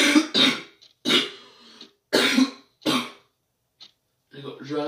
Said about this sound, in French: Parce que ma toux alors elle vient.